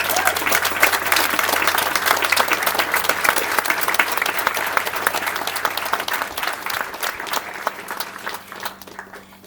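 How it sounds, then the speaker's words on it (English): A crowd at a 2025 commencement ceremony applauds, sustained many-handed clapping that holds steady for most of ten seconds and then slowly thins and fades. "let's just give them all another round of applause"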